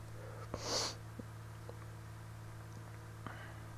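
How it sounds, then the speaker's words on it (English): A single short, sharp sneeze from one person, faint against a steady low hum, followed by a few soft sniffs and clicks in quiet. "I sneeze again. I've been sneezing all morning."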